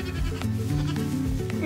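A small goat bleats loudly and close by in a farmyard, a wavering, drawn-out cry lasting over a second, heard alone without talk.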